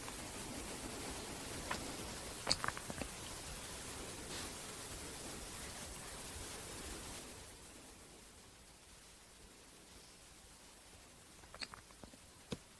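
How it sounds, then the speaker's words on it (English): Steady broadband white noise hisses during a live whitetail hunt in Wisconsin, loud and even at first, then dropping to a quieter level about halfway through, with a few faint ticks and taps over it. "Yeah, the white noise is probably better to have it on"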